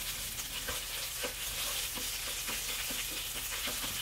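Red Thai curry paste frying and being stirred in hot cooking oil in a pan, a steady close sizzle with scraping stir strokes throughout, no talking.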